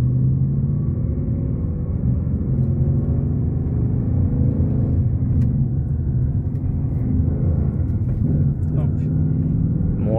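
A Ford 5.0 engine rumbles low and steady while a learner driver eases the clutch out and adds gas, the car's droning cabin noise running continuously throughout, with people talking over it.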